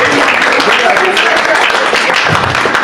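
Applause at a youth retreat gathering, a moderate wash of clapping from a crowd with a voice talking over it.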